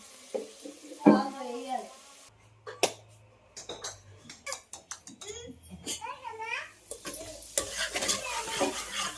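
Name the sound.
stirring and frying masala with tomatoes for mutton curry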